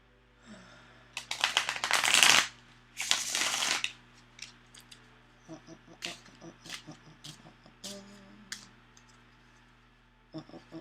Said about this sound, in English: I'm gonna shuffle my deck.